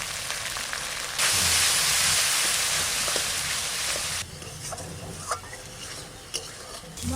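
Spice paste for a village-style green jackfruit curry sizzles and is stirred in a pan, a loud frying hiss that drops after a few seconds to quieter scraping and spoon clinks.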